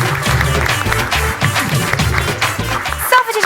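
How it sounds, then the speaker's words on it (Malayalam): Sustained applause from a live comedy show audience, dense and loud clapping with some crowd noise, fading into a brief quieter tail. "നല്ലൊരു കൈയടി"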